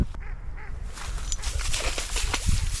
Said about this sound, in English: There go the ducks.